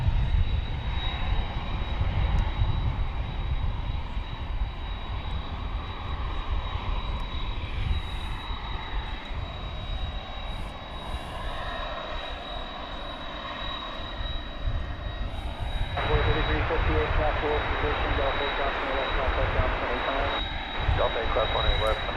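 American Airlines flight 2707 jet departing Dallas Fort Worth Airport at night, a sustained engine roar with a steady high whine that swells louder toward the end, under intermittent talk.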